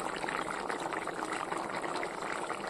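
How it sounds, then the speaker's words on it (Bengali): Fish curry with potato, new-season cauliflower and tomato boils vigorously in a pot, giving a steady, dense bubbling and gurgling that stays constant and close for the whole moment. "দেখো আমি টকবগিয়ে ফুটছে"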